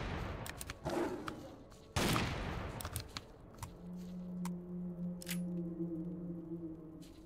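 Video game weapon gunfire with sharp bursts and a heavy blast, then a lingering tonal hum. The shots come loud and irregular with no talking.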